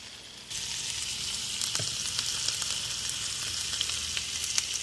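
Butter sizzles steadily in a hot pan for butter chicken, a bright continuous frying hiss that starts abruptly and holds even, close and fairly loud, with no talking.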